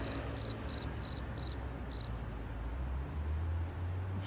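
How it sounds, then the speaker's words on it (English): A cricket chirps in short, evenly spaced pulsed bursts, six of them over the first two seconds, clear against a low background hum, then stops, leaving only faint ambience. "Don't shoot the cricket."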